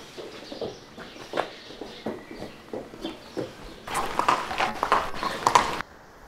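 A horse walks during dressage training with steady, evenly spaced hoof clops, growing louder and brighter partway through.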